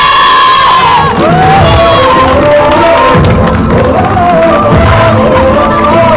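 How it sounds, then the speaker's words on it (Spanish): Loud crowd cheering and shouting for the champions after a women's football league final, America vs Atletico Viva, high excited voices and whoops filling the whole stretch without a break. "un fuerte aplauso para las campeonas"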